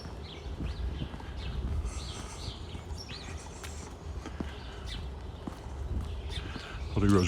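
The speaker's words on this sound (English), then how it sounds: "Listen to the birds." Birds chirp faintly and intermittently on an April street in Regina, their thin calls mixed with footsteps and low outdoor background noise.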